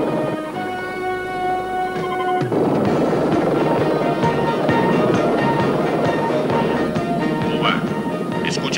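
A helicopter flies overhead with a steady loud rotor and engine roar that swells partway through, heard close under urgent voices, with occasional clanks mixed in.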